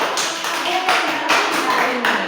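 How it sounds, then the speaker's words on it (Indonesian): Children clapping together in a primary classroom at a border-area school: a brisk, loud round of hand claps with a few rhythmic pulses, close by and lasting a couple of seconds. "Tepuk tangan untuk kita semua"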